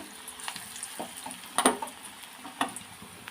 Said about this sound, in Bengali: লাল লাল করে ভেজে নেব সবগুলো বড়া